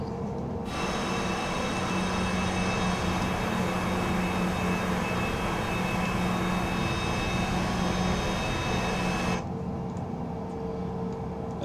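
A CJ3 business jet taxiing in a flight simulator game, a steady broad engine rumble and whine that holds evenly for about nine seconds before abruptly cutting to a quieter hum.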